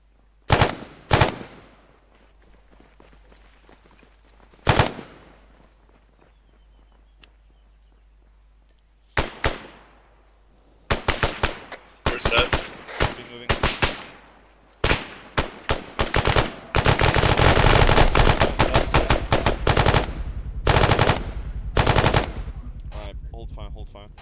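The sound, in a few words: gunfire in the video game Arma 3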